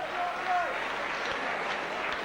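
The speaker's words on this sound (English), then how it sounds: "receives a tremendous round of applause as he comes over here to the popular side" A stadium crowd at a St Helens versus Sheffield match, 8 April 1990, applauds and cheers in a broad wash of noise, with voices mixed in over the clapping.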